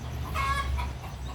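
Chickens cluck in a short burst of soft, close clucks over a low background rumble, then go quiet.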